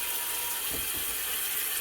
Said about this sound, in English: So now we're going to fill it up with water.